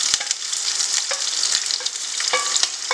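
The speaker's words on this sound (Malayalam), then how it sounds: "പച്ചമുളക് നല്ലോണം വറുത്തെടുക്കണം കേട്ടോ" Green chillies crackle and sizzle in hot oil with popped mustard seeds, close and steady over three seconds, with scattered sharp pops and stirring scrapes.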